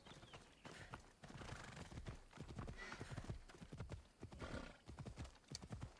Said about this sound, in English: I shall ride a horse.